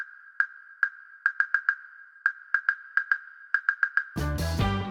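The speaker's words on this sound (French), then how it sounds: "Et le riff de clave fait ceci." A clave riff clicks out a quick, syncopated pattern of about sixteen sharp strokes, each trailing into heavy cathedral-like reverb. A full music track then bursts in at the end.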